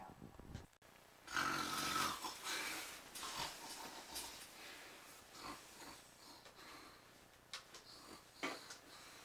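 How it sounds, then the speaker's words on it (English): A person snoring, recorded while trying out a vibrating pillow meant to stop snoring: rough, snorting breaths come in a steady run of repeated pulses, close and fairly loud, with no talking. "today, I'm here to talk to you about snoring"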